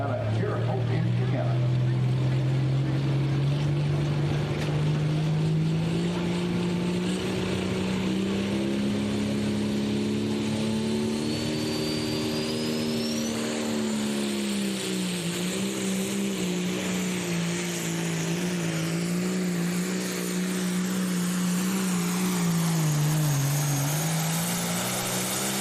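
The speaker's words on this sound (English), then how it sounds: "You're going to hear the roar, and he's off to the races." A hot farm tractor, a John Deere 8340, roars steadily at full throttle during a county fair tractor pull, its loud engine note slowly rising and falling as it pulls, with an announcer talking over it.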